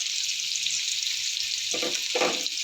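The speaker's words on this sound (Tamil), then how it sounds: "இப்போ வெங்காயம் போடலாம். நல்லா வதக்கிக்கலாம்." Onions and green chillies sautéing in a pan for mutton biryani, a loud, continuous hissing sizzle close up, with two brief stirring scrapes near the end and no voices.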